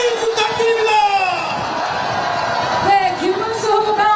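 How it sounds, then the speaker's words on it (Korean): Outdoor campaign rally crowd at Seoul Station plaza cheering and whooping, a loud sustained roar with scattered shouts and a few tonal calls rising above the mass of voices. "여러분 큰 박수를 부탁드립니다."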